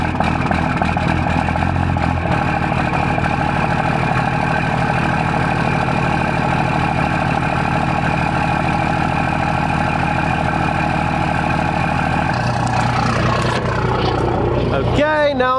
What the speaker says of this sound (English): let's get this truck started up.